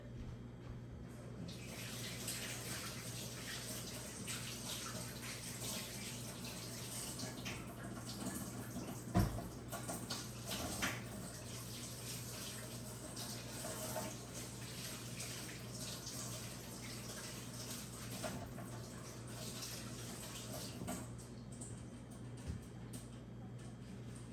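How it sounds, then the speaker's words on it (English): A tap runs steadily into a sink while hands are washed, a faint continuous splashing stream with small shifts in the flow and one brief knock, heard alone at low level. "I'm gonna wash my hands before I put it in the skillet"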